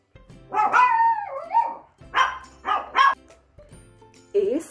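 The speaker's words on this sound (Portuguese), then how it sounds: "Como esse cachorrinho," A small dog lets out a series of close, high yapping barks, several in quick succession with drawn-out whiny tails, ending in a short yip.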